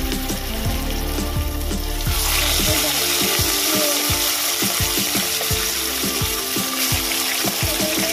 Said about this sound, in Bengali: পরের মাছগুলো এইভাবেই ভেজে নেব।